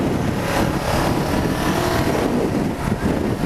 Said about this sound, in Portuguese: tá um barulho estranho na moto aqui